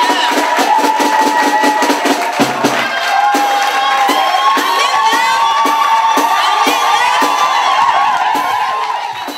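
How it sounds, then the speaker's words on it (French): A church congregation cheers, whoops and acclaims Jesus Christ at a Christmas family service, with loud crowd voices and rhythmic claps carrying on throughout. "Acclamons Jésus-Christ, acclamons le Seigneur."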